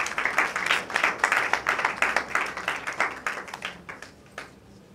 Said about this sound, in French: je vous demande de pouvoir applaudir très très fort.